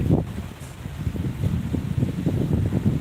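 Strong gusting wind from Cyclone Fengal roars steadily and close, a dense low rumble of buffeting against the microphone with no voices.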